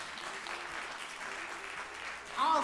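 Sustained audience applause for the chairman at a national song contest, a dense steady wash of clapping through the whole stretch that swells slightly louder right at the end.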